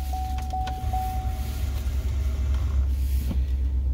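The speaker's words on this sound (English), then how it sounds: "Start her up." A 2021 GMC Sierra AT4 Carbon Pro pickup truck's engine starts and settles into a deep, steady rumble at close range, with a few faint clicks early on.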